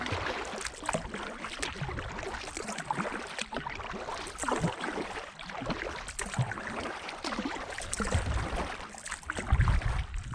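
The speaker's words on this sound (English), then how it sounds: "this is how we paddle upstream for dinner" A kayak paddles upstream on the Suwannee River, with rhythmic paddle strokes splashing and water rushing close by in a continuous, moderately loud wash with no talk.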